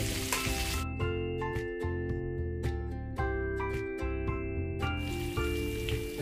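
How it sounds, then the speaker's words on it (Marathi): Stuffed brinjal sizzles in a pan as it is flipped to cook both sides over a low flame, a close, steady hiss broken by short clinks and knocks, with a sustained tonal hum underneath. "थोडीशी अशी पलटवून घेते म्हणजे दोन्ही बाजूला शेकते."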